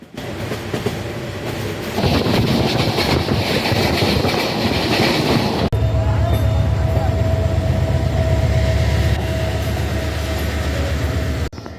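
Mohanagar Godhuli Express train at Chittagong railway station, a steady loud rumble of wheels and cars with clattering rail noise, shifting in tone midway as the train moves close by, with no speech.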